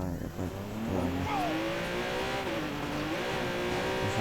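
Car engine in Watch Dogs 2 gameplay, revving steadily with a rising and falling pitch, loud and continuous throughout.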